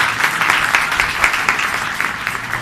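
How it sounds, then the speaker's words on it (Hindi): A church congregation at a Palm Sunday service breaks into loud applause, a dense, continuous wash of many hands clapping together that fills the room without pause. "खुदा के जलाल के लिए जोरदार तालियां"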